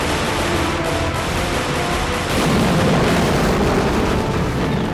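Heavy, continuous rumbling blasts from rocket fire and explosions during the Nagorno-Karabakh war, a dense roar of booms that swells louder halfway through, with no voices.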